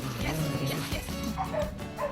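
Dogs during tug-of-war play give repeated excited yips and short barks with whimpering, close by, over steady background noise.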